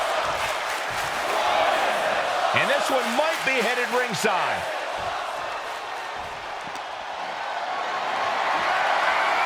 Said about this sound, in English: Steiner drawing a big reaction from the crowd.